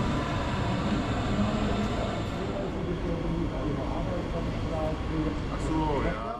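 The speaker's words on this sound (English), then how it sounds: "My last train of the challenge pulls into platform 16 right on time, formed of one of the brand new ICE 3 Neo sets" A new DB ICE 3 Neo high-speed train rolls into a platform at a large German station, a steady low rumble with brake squeals rising near the end and a voice speaking faintly under the noise.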